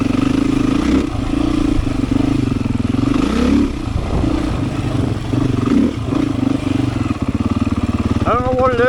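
Beta 500 dirt motorcycle engine while riding on a trail loop, a loud continuous engine drone that rises and falls with throttle changes and revs up sharply near the end.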